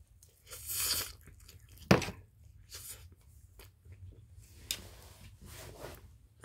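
Someone eats a fried egg close to the microphone, with soft, irregular crunches and chewing noises, a few sharper bites standing out against a quiet background.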